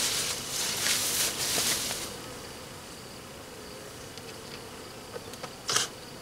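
Honey bees on a hive frame being moved into an observation hive, a dense close buzz that swells loud for the first two seconds, then settles into a softer steady drone with a few brief near passes.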